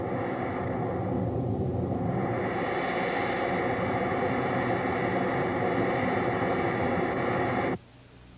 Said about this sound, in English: a melody can be played by filtering the jet noise